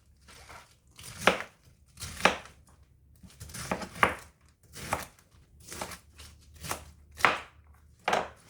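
A kitchen knife chops through cabbage on a cutting board in about nine distinct, fairly evenly spaced strokes, each a crisp close-up thunk, with no talking.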